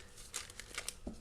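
A small plastic bag filled with acrylic paint is squeezed by hand, giving soft crinkling and brief tearing-like rustles in a few quiet, close bursts.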